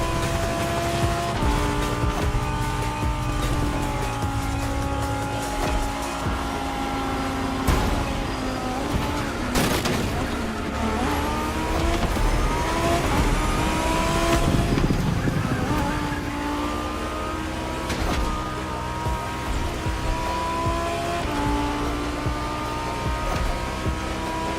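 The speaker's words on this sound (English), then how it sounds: "Huracan is the most powerful car in its class, just like all the cars you're racing right now." Lamborghini Huracan Performante race car in The Crew Motorfest, its engine revving hard and changing pitch through gear shifts, with tire squeal and skids during a race, loud and continuous with no talk.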